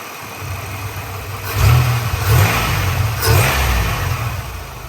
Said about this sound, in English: I'll give it a couple revs for you guys.